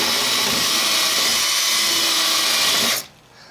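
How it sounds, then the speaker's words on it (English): A power drill whines steadily at close range for about three seconds, drilling through foam and wood on an HO-scale model railroad layout, then cuts off abruptly, leaving quiet. "I have to drill through the foam and the wood"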